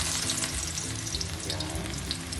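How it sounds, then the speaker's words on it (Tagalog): Garlic sautéing in hot oil in a pan for beef giniling, a loud dense continuous crackling sizzle that stays close and steady throughout with no talking. "Gigisa natin ang ating bawang."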